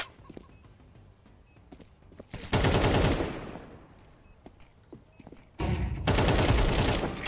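Gunfire in Counter-Strike 2: two loud sprays of automatic rifle fire separated by quieter stretches with clicks, footsteps and faint game beeps, close and sharp.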